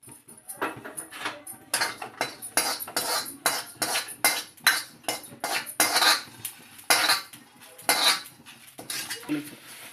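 Coriander and cumin seeds roasted in a kadai for gongura pachadi, a spoon scraping and clinking against the metal in quick rhythmic strokes, close and continuous, with the dry seeds rattling.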